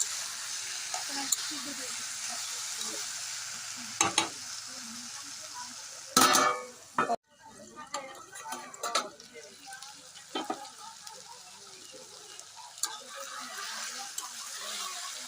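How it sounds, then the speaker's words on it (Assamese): Vegetables frying in a pan while being stirred, giving a continuous close sizzle with irregular scraping strokes and one loud clatter of utensil on pan partway through. "এই চব্জিখিনি মই অলপ লাৰি দিছোঁ।"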